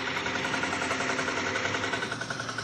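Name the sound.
Vierzon-made agricultural tractor engine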